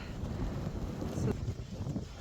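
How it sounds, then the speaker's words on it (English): Strong wind buffets the microphone outdoors by a large oak tree in a steady, rumbling roar that stays loud for the whole stretch. "But wow, is it windy?"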